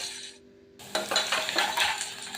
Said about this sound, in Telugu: ఉల్లిపాయలు పచ్చివాసన పోయే వరకు బాగా వేయించుకోండి